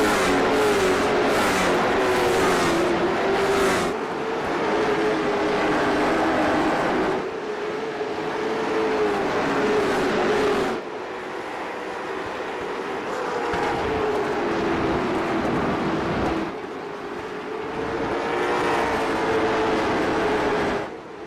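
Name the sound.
race cars racing on the Roval road course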